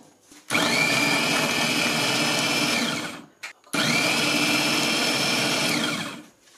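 An Amzchef electric kitchen chopper mincing garlic cloves runs in two loud whirring bursts of about three seconds each, with a short pause between, its motor pitch dropping as each burst winds down.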